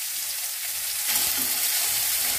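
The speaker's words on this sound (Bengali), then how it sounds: "পেঁয়াজগুলোকে আমি একটু ভেজে নেব।" A bowl of onions frying in hot oil in a pan with fennel seeds, a steady loud sizzle that swells briefly partway through as the onions are stirred.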